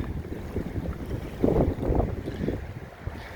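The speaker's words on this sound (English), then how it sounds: "It is so windy." Strong wind gusting across a lake with whitecaps in a state park, a steady roar of wind buffeting the microphone with louder surges midway, no talking.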